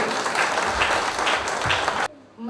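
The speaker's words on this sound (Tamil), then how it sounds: "நல்ல கைத்தட்டி அவங்களுக்கு" An audience at a Tamil debate forum applauds a speaker, with dense, steady clapping that fills the room and then cuts off abruptly near the end, followed by a brief quiet moment.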